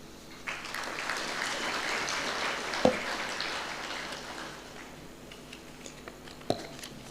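Applause from a crowd at a university anniversary celebration: a soft, distant patter of many hands that swells slightly, then thins, with a couple of sharp isolated knocks.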